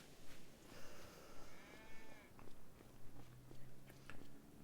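A sheep in the video game Farming Simulator 25 bleats with a wavering, drawn-out call, followed by faint rhythmic munching and chewing sounds, quiet and close.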